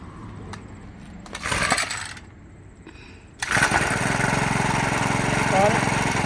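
A gas string trimmer gets a pull on its starter that brings a short sputter and then silence. A second pull catches, and the engine roars up and keeps running loudly and close by.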